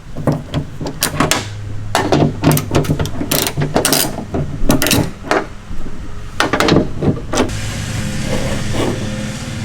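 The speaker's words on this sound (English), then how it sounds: "I highly recommend you use a 11mm deep well socket." A ratchet with an 11mm deep well socket removing nuts during a rear back-up camera replacement on a Ford Edge or Escape, giving loud, close clicking ratchet strokes in repeated bursts with brief pauses.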